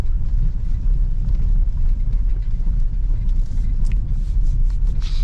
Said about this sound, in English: the Durango is taking this road pretty well